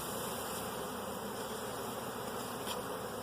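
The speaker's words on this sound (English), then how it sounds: "that's got to be 6 pounds of bees. It's a tremendous amount of bees." A dense, steady buzz rises from a large mass of honeybees just shaken out of a package into a hive, close and continuous with no talking.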